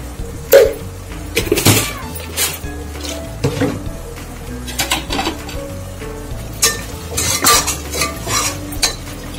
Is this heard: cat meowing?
no